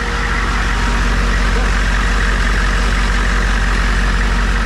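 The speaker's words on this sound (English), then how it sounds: "So AC's running. You see how smooth the engine is." A 1987 AM General Humvee diesel engine idles steadily up close with its air conditioning running, a continuous low rumble with an even pulse that stays loud throughout.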